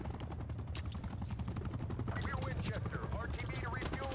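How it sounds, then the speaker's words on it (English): Rapid video game gunfire from a helicopter shooting zombies, dense continuous bursts of shots over the helicopter's rumble, with a voice faintly underneath. "I'm in a helicopter. I'm currently shooting all the zombies."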